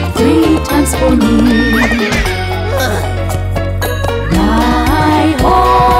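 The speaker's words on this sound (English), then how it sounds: "Three times my horse neighs for me." Horse neighing repeatedly over a bouncy children's farm song, the whinnies rising above steady music and a strong bass beat, loud and close.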